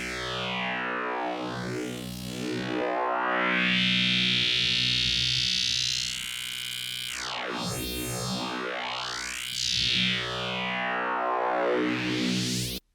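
Serum 2 synth with two opposing macro-driven filter sweeps, producing a distorted, harmonically rich tone whose brightness swoops up and down in crossing arcs, building toward a higher, brighter close over thirteen seconds, alone and without speech.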